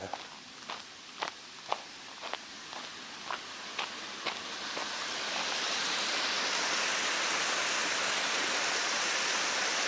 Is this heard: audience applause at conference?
no